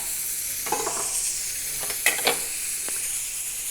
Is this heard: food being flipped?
yes